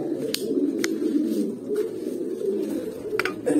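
A pigeon coos in low, throaty repeated phrases close by, with a few faint clicks and rustles between the calls.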